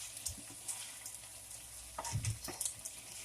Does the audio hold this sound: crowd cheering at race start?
no